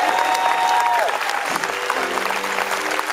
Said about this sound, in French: Frédéric, on applaudit Frédéric.